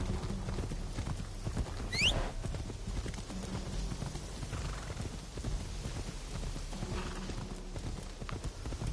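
A horse's hooves clip-clop steadily through a town in the Assassin's Creed Shadows video game, even and continuous over a soft ambient bed, with a brief high chirp near the start.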